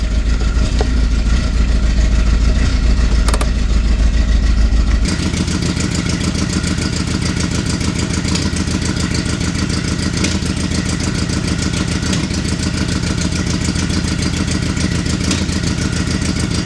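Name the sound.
VW Golf MK2 GTI engine running and revving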